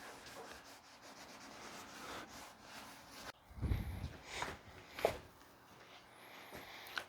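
A cloth rubs and wipes over the dusty cab bodywork of a 1988 Ford truck during body filler work, faint and close with soft scuffing strokes and a few louder thumps.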